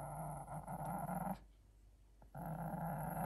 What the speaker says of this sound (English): Why would you dare growl at that poor little puppy?